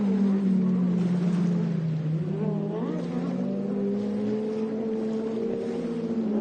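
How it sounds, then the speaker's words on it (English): Stock 4-stroke jet skis racing on water at an expert-class event: a continuous droning engine roar with slowly shifting pitch, moderately distant, carrying steadily throughout. "Adrian Fisk and AJ Lewinstra are running the 4-stroke expert stock skis."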